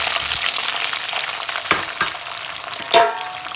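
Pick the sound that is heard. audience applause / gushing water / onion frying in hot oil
onion frying in hot oil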